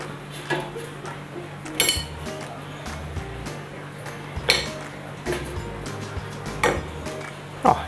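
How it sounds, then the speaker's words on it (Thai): Homemade Makro cheese-sausage corn dogs, fresh from an air fryer, are set down onto a plate with several light clinks and taps spaced across a quiet room hum, no one talking. "นี่ผมจะเอาใส่จานแล้วนะครับ"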